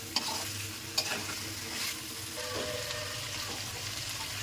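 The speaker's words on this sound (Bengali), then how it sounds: "আলু কষানো হয়ে গেছে, এখন আমি সজনে ডাঁটাগুলো দিয়ে কিছুক্ষণ কষিয়ে ঝোল দিয়ে দিলাম।" Potatoes and drumstick pieces sauté in a pan with a soft, steady sizzle, broken by a few sharp scraping stirs at the start.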